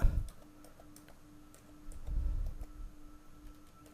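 Someone types a mobile number on a computer keyboard, producing a quiet series of light, irregular key clicks with a soft low thump or two and no speech.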